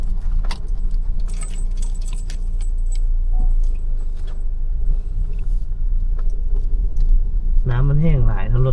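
A car climbs a rough, dry dirt road toward a village, with a steady low rumble and constant rattling and jangling from the bouncing cabin; a brief voice-like warble rises near the end.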